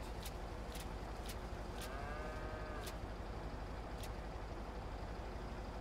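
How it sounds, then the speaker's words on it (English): Cattle lowing in the farming game Farming Simulator 22 on the Ballyspring map, a few drawn-out moos rising over a steady engine drone with short sharp clicks scattered throughout. "Moo. Moo cows."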